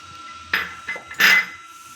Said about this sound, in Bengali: এবার ঢাকনাটা ভালো করে চাপা দিয়ে দিলাম